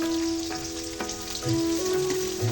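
Whole garam masala and chopped onion frying in hot oil for a Bengali fish head and moong dal curry, a soft, steady sizzle with a few stirring scrapes and a faint tonal hum behind it.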